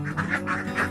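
Laying ducks on a duck farm quacking in a quick run of four or five loud, nasal calls close by, with no talk over them.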